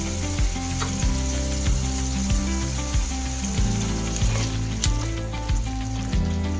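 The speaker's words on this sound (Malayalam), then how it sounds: "ഇനി ഇതിലേക്ക് നമ്മൾ വറുത്ത് വെച്ച അല്ല വറുത്തരച്ച് വെച്ച ഒനിയൻ പേസ്റ്റ് ചേർത്ത് കൊടുക്കും" Roasted ground onion paste sizzles steadily in a pan of egg masala, a loud continuous frying hiss broken by regular scraping stirs.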